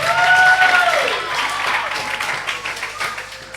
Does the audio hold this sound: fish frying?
no